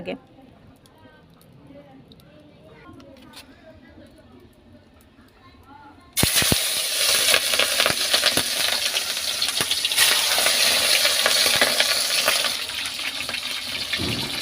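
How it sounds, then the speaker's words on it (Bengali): Salted chicken pieces go into a pan and start frying, a sudden loud burst of sizzling hiss and spatter that follows a quieter opening of low voice and kitchen clatter, then stays strong and steady to the end. "আমি এখন চিকেনগুলো হালকা করে ভেজে নেব"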